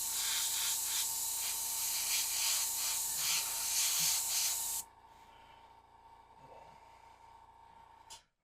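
Airbrush paint spraying onto a miniature, a close steady hiss for about five seconds that cuts off abruptly, leaving quiet room tone and a brief final burst.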